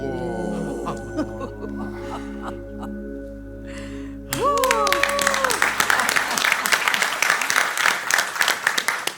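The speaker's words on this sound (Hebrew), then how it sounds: "מחיאות הכפיים הם כמובן לכבודך, גברתי היקרה." A theatre audience at a staged play starts clapping after a spoken passage and music, and the applause comes in sudden and close. Loose laughter is mixed into the steady, dense clapping.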